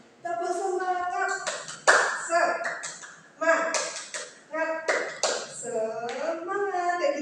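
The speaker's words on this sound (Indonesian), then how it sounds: "Tepuk semangat." A group in a micro-teaching classroom does the 'tepuk semangat' spirit clap, chanting in unison and punctuating the chant with sharp rhythmic bursts of hand claps.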